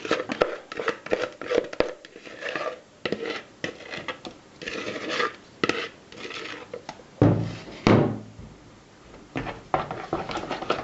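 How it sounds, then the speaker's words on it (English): Cream is mixed into cheesecake filling in a bowl. The utensil gives repeated close scrapes and taps against the bowl in irregular bursts, with a heavier stirring stretch partway through. "We're gonna start with mixing the cream into the cheese filling."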